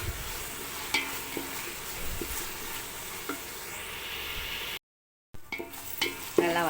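Mint and coriander sauté in a pan for biryani, giving a steady low sizzle with occasional stirring scrapes and clinks, fairly quiet and alone, with a brief silent gap partway through.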